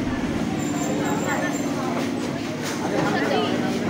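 A Ranaghat local train rolls into Kanchrapara railway station with a rumbling, clattering din of wheels and carriages, while a person talks over the noise.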